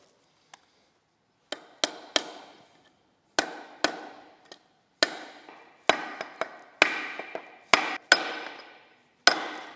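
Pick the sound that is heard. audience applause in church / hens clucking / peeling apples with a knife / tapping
tapping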